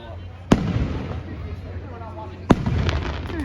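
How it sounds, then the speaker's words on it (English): Fireworks bursting at a 2023 celebration in Cementon: two sharp, loud bangs about two seconds apart, each trailing into crackle, over a steady crowd murmur with people talking nearby. "They're having so much fun watching the fireworks."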